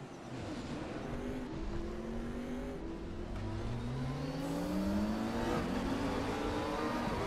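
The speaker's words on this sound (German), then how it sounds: "MP4-12C GT3, den werden wir ja heute fahren." A 2014 McLaren MP4-12C GT3 race car engine in RaceRoom Racing Experience, revving steadily upward through the gears with rising whine, loud and continuous on its own.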